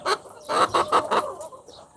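Three-year-old chickens on a farm in Aklan cluck in a run of several short, fairly close bursts, with no talking.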